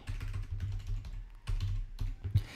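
A computer mouse clicks during web programming work, a few sharp, close clicks spaced over a couple of seconds above a low steady hum, with no voices.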